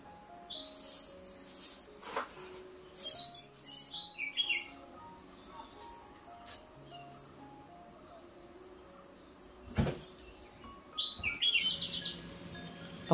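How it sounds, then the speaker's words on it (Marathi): Outdoors after rain, a bird calls in short chirps scattered across a quiet background with a faint steady insect drone, a few calls near and a louder cluster of chirps toward the end. "पक्ष्याचा आवाज"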